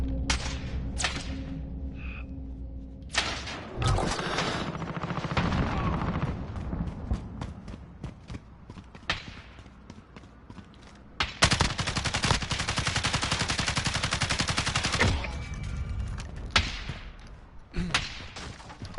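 Gunfire in a shooter video game: bursts of rapid automatic fire and single heavy shots with thuds and impacts come in loud clusters separated by quieter gaps, and a long sustained burst sounds near the end.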